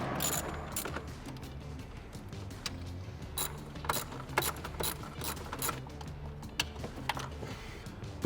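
Ratchet wrench loosening 8mm bolts on a Ford F-150 fuel rail: rapid, steady clicking of the pawl in repeated bursts, close up, with brief pauses between strokes and no talking.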